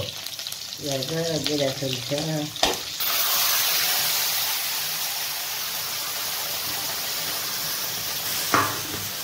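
Onions dropped into hot oil for tempering in a home kitchen for a Malabar spinach mustard dish burst into a loud, steady sizzle after a brief voice, with a faint clatter near the end.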